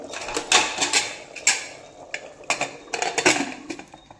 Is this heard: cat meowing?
no